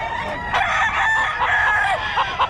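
Roosters crow loudly and overlap at a gamefowl market in Bocaue, a dense, close chorus of crowing and clucks filling the short stretch.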